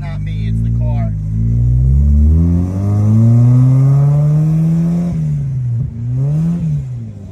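A Mazda Miata's engine drones while driving, its pitch climbing and falling with changes of speed as the revs rise between shifts, loud and close inside the car.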